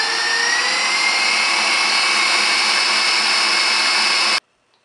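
An electric mixer whipping eggs at high speed for a honey sponge cake gives a steady, loud, even whine that holds without a break, then cuts off abruptly near the end.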